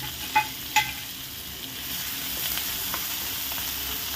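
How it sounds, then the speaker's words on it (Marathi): Finely chopped onion with garlic and green chillies sautés in a pan until golden brown, a steady close sizzle with two sharp metallic utensil taps early on and light stirring scrapes throughout, no voices. "कांदा गोल्डन ब्राउन होईपर्यंत परतून घेऊया।"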